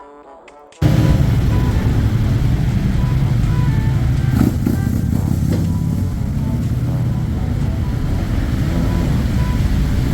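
Motorcycles and other vehicles roll off a cargo ship, a loud steady mix of engine rumble and clanking that begins abruptly after a brief quiet moment and continues throughout, with a few sharper knocks partway through.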